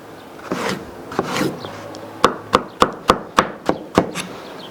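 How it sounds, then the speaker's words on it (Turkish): A knife cuts eggplant into cubes on a board while making Diyarbakır-style maqluba. A few softer cuts come first, then a quick run of about seven crisp, evenly spaced chops, close and clear. "Patlıcanları da yine aynı şekilde kuşbaşı doğrayacağız."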